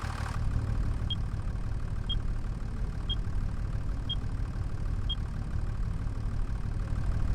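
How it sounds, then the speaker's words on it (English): A 200-horsepower John Deere 8300 tractor engine idles in a steady, even drone with a faint regular ticking about once per second, no talk over it. "And this is the John Deere tractor I was talking about. 8300. It has 200 horsepower."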